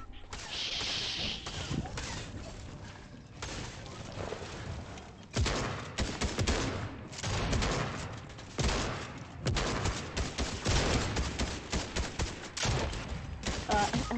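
Gunfire rattles through a Fortnite match, bursts of rapid shots and sharp cracks repeating in clusters over several seconds, fairly close and loud, with game sounds between volleys.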